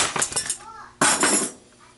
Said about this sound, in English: So we have the Camp Mesa box kit from Pro Force Equipment that I've been carrying around forever